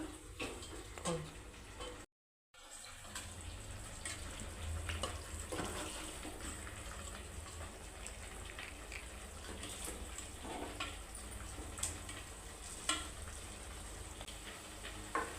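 Chicken sizzles and fries steadily in a pan for Hyderabadi dum biryani, with scraping stir strokes and a brief break in sound early on; no talking.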